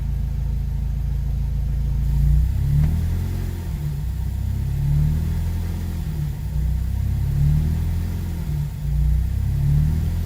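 A Subaru BRZ / Toyota GT86 running on E10 fuel idles while warming up, with an oxygen sensor issue; a loud, close, low rumble with slow, gentle surges in level and no voices.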